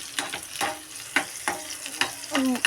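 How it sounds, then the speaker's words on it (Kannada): Chopped garlic and green chillies tempered in hot oil, with a crackling sizzle and several sharp stirring scrapes close by, no talking. "ಈಗ ಒಗ್ಗರಣೆ ಕೊಡಾಕತ್ತೇನೆ ರೀ ಒಗ್ಗರಣೆಗೆ ಅದೇ ಏನಪ್ಪ ಬೆಳ್ಳುಳ್ಳಿ ಆಮೇಲೆ ಹಸಿಮೆಣ್ಸಿನ್ಕಾಯಿ ಕಟ್ ಮಾಡಿ"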